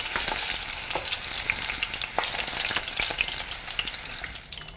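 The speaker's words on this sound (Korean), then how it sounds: "기름에 튀기는 순서가 있어요" Eggplant deep-frying in hot oil for a Chinese-style dish with ginger sauce, a dense, steady close sizzle with crackling pops throughout, no talk.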